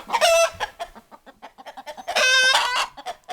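Chickens in a coop cluck busily up close, with a few louder drawn-out squawks among a rapid run of short clucks.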